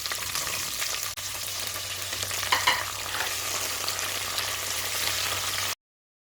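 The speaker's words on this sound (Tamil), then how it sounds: "கருவேப்பிலை வெங்காயம் சேர்த்துக்கலாம்" Curry leaves and onion hiss and crackle in hot oil while being stirred for mutton bone rasam, a loud continuous sizzle close up with a brief scrape midway, cutting off abruptly near the end.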